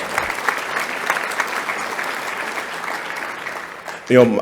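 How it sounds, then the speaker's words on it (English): Applause from an audience at an all-conference awards luncheon: a sustained, even roar of many hands clapping, with a voice breaking in briefly at the very end. "that deserves a round of applause"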